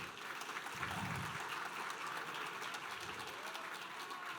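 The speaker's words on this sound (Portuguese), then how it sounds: "salva de palmas para a galera do Master e da mentoria aí" A round of applause from the audience at a sales and entrepreneurship class, fairly faint and distant, a steady wash of clapping with no voices over it.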